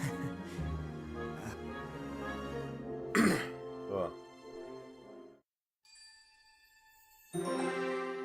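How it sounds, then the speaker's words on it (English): A man clears his throat and coughs in short rough bursts between stretches of talk, close to the microphone, with a few soft chime-like tones behind. "I've been coughing a little on this one"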